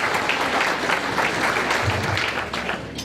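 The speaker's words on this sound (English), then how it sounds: "Give them that applause." A crowd at a high school reunion applauds the honored class of 1939, with steady, full clapping throughout and a faint voice beneath.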